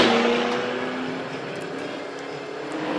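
A McLaren launching at a spectator drag race at the Freedom Factory, a steady engine roar fading slightly as the car pulls away, mid-distance, with no talk over it.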